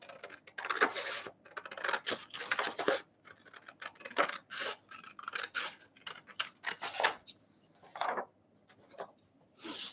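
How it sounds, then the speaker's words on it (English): Scissors snip the edges off freshly printed paper pages, a run of close, crisp cutting strokes in uneven bursts with short pauses between them and no talking. "Cut the edges off."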